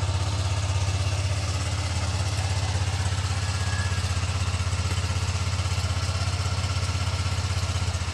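A motorcycle engine runs steadily with a constant low drone and rhythmic rumble, close and continuous throughout, with a dog riding along as a passenger.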